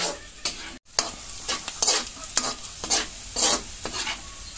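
Alamang shrimp paste frying in a pan while being stirred, with steady sizzling under repeated scraping spatula strokes, loud and close, with no talking.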